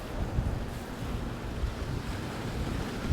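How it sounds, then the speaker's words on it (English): Strong wind buffets the shoreline, a steady broad roar of gusts mixed with surf, loud and continuous without any voices. "That wind's really picked up."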